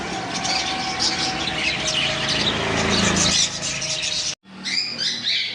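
Java sparrows and budgerigars crowded in a bird shop stock room make a dense, loud chorus of overlapping chirps and squawks that breaks off abruptly for a moment, then resumes.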